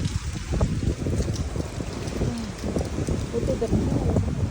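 Strong storm wind roars and gusts through trees and a vegetable garden, a steady blustery rush close to the microphone while someone talks over it.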